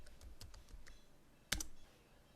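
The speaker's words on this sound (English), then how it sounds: "To close the terminal window, type exit at command prompt" Light typing on a computer keyboard at a terminal prompt, several soft uneven keystrokes followed by one louder key press, close and quiet with no speech.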